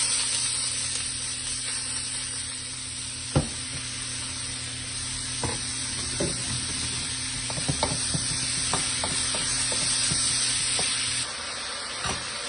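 Onions cook in butter in a pan, sizzling and hissing steadily throughout, with repeated scrapes and knocks of a utensil stirring them.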